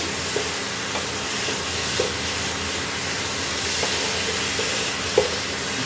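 Spices stirred in a hot pan while cooking mochar ghonto, a banana-flower dish: a steady sizzling hiss with a few soft, sparse taps of the spoon against the pan.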